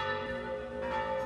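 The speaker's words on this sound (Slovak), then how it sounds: "Keď sa ohlásil večerný zvon" An evening church bell rings in a village, a sustained rich metallic tone with lingering overtones, steady and moderately loud, heard on its own without voices.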